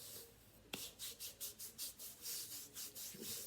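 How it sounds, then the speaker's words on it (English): Lotion is rubbed into the skin of an arm, producing soft rhythmic swishing strokes after a small tap, quiet and close with no voices. "Rub it in."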